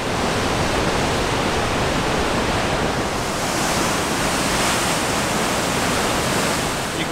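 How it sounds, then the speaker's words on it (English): Water rumbles and rushes through a narrow limestone canyon in Icefields Parkway country, a loud, dense, unbroken roar with no voices. "The rumbling water below is still at work, cutting, abrading, and dissolving the limestone rock"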